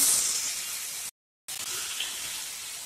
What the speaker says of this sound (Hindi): अब हम इसमें पेस्ट को डाल देंगे तो इसमें से एक छन सी आवाज आएगी